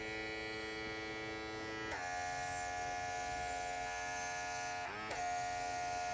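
A Young Nails cordless airbrush runs on its high setting with a faint, steady electric buzz. The motor's pitch jumps slightly about two seconds in and again near five seconds. No one speaks.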